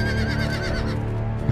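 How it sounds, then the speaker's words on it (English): A generic horse whinny sound effect from the Game of Thrones Telltale video game: one close, shrill neigh with a wavering, descending pitch. "that's a generic horse whinny sound if ever I've heard one"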